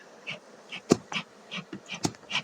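Honeybees buzz around an opened beehive during a daytime honey harvest in Zimbabwe, in short intermittent swells punctuated by a few sharp clicks and knocks, with no talking.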